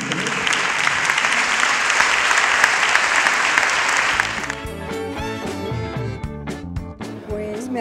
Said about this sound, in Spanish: Hemos aplaudido, la gente está muy sonriente.